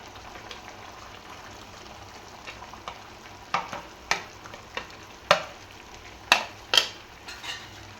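Plantain, grated coconut and cashews being stirred in a pan for an evening snack: soft frying hiss underneath, with sharp scraping clicks of a spoon against the pan that come in irregular bursts and grow louder toward the end.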